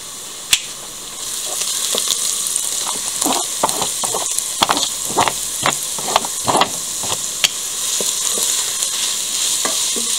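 Chopped onion and carrots sizzle and crackle steadily in a pot for soup, with sharp clicks and pops from stirring scattered through the continuous frying hiss.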